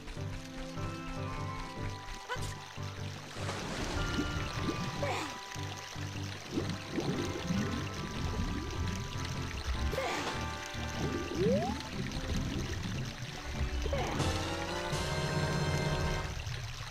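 Splashing and pouring water in The Legend of Zelda: Ocarina of Time, a steady liquid wash under game music and tones, with a person talking over it.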